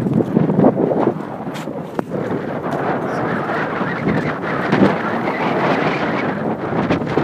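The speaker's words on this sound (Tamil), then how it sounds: "இப்போ என்ன காற்று அடிக்கிறது" Gusty wind blows hard across the microphone on the salt-crusted coast at Sriharikota, India, a low rumbling buffet that rises and falls without pause.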